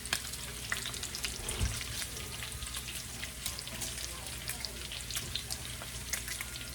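Bacon frying in a stainless steel pan, a dense, continuous crackling sizzle heard close up, with a brief clink partway through.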